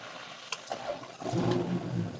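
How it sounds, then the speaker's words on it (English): A Ferrari Purosangue SUV's V12 engine cranks and fires up, a brief starter whir followed by a swelling, deep rumbling catch that settles into a strong idle, close and clear without speech. "So let's go ahead and start it up."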